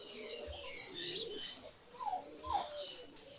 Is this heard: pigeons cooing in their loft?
yes